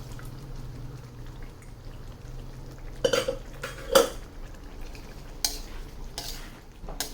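Cooked vegetables with their water are poured and stirred into a pot of soya chunks curry, with a low simmering hiss and a few sharp clinks of a spoon against the pot, fairly quiet with no talk.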